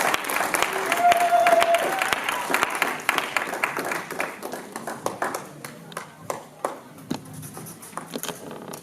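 A church congregation claps and cheers during a worship service, the applause loud at first and then thinning into scattered, fading hand claps.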